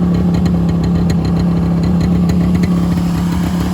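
Small rare two-stroke trail bike idling close by, a steady buzzing engine note held evenly throughout with no revving.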